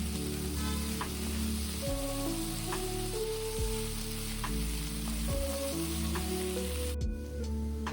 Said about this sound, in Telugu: వెల్లుల్లిని బాగా క్రష్ చేసుకొని అందులో యాడ్ చేసుకొని ఫ్రై చేసుకోండి.